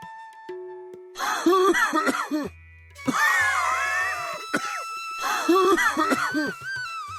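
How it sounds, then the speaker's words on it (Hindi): Several harsh coughing fits in bursts, with short pauses between them, close and loud; a low tone hums faintly in the background. "तुम्हारी खांसी 3 हफ्ते से ठीक नहीं हुई"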